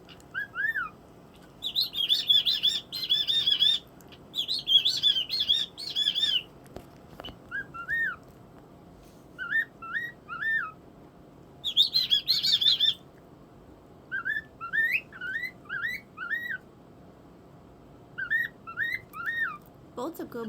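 A pet bird whistles in short, bright, repeated bursts separated by quiet gaps, a chirpy sequence of rising and falling notes heard fairly close and alone.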